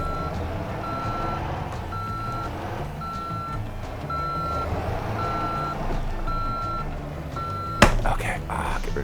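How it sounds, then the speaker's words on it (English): Truck reversing beeps in a driving video game, a steady evenly spaced series of tones sounding over a continuous engine rumble, with a sharp clunk near the end. "the reverse sound is horrid in my headphones"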